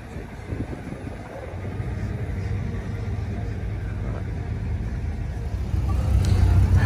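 Cars roll out from a car meet at the Outlets at San Clemente, producing a steady low engine rumble that grows louder toward the end as vehicles pull away nearby.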